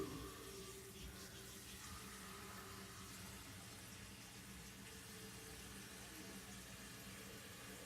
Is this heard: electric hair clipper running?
no